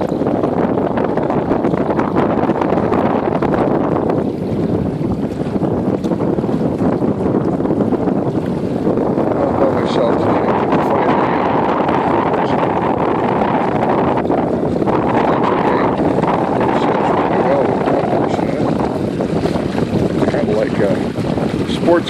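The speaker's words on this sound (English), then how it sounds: "I'm going to get the wind, angle the wind just right. There we go. The boat literally picks up speed." A Hobie Tandem Island sailboat sails in steady wind, with continuous loud wind buffeting the microphone and water rushing along the hull throughout.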